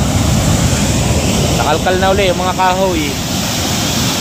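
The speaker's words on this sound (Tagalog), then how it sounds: "pinapanood natin ang alon" Ocean waves roll in as a steady, loud broadband roar that fills the whole clip, with someone speaking briefly over the surf midway through.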